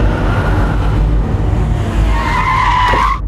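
A car speeds off with a loud, rising tire squeal and engine roar, the skid sharpening into a high screech before cutting off abruptly, close and dominant.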